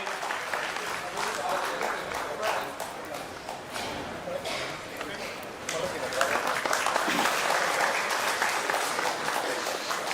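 Audience applause at a Gujarati satsang gathering in Mumbai, welcoming honored elders and the president; dense sustained clapping throughout, swelling louder in the second half, with a faint voice underneath.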